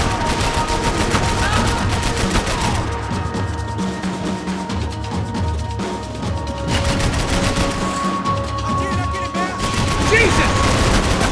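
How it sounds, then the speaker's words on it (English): Sustained gunfire in the video game Max Payne 3, loud and continuous, with rapid shots and machine-gun bursts rattling throughout and a brief quieter lull midway. "I can't concentrate with bullets whizzing past my head."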